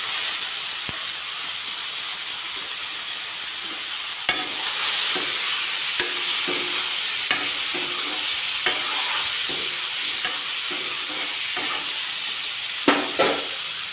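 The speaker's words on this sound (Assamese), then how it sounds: "আৰু এতিয়া আলুখিনি ইয়াত দি দিলোঁ।" Diced potatoes fry with onions in a pan, making a steady hissing sizzle broken by occasional sharp clicks and scrapes of stirring, with no talking.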